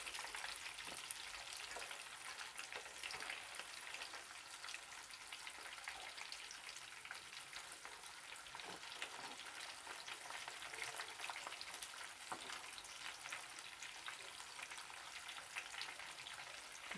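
Spicy KFC-style chicken nuggets fry in hot oil with a continuous dense crackling sizzle, close and fairly quiet, steady for the whole stretch with scattered sharper pops.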